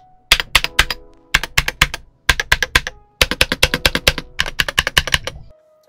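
Fast, clicky keystrokes from a Gamakay TK75 mechanical keyboard rattle out in bursts of rapid typing with short pauses, loud and close.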